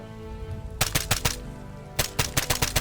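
Bursts of automatic gunfire from the military video game Arma 3 during a milsim multiplayer assault, two clusters of rapid loud shots with a pause between them.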